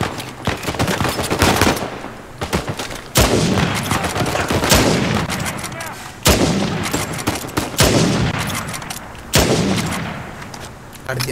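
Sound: sniper gunfire in Uncharted 4 video game

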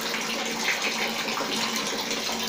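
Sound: water flowing from a shower fed by an instant water heater

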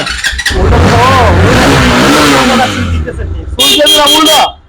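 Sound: motorcycle engine revving

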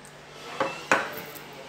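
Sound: pork cubes and liempo put into the Edmark smart pan

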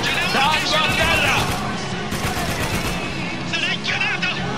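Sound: gunfire in video game Spec Ops: The Line

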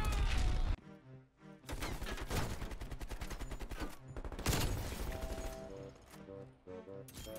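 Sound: ZRG 20mm sniper rifle shots in Black Ops Cold War video game

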